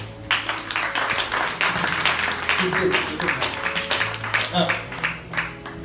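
Congregation clapping along at a church service, a steady mass of claps running the whole time, mixed with a loud voice and some music.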